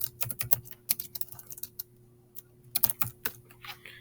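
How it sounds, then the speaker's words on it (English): Fingers type on a computer keyboard, with clusters of quick, crisp key clicks separated by short gaps, close and fairly quiet. "this is where you can type in information"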